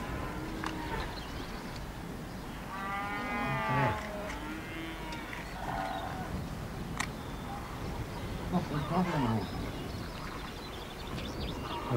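Cattle low in a farm setting, with several drawn-out moos rising over steady outdoor background noise, one near and loud, others fainter.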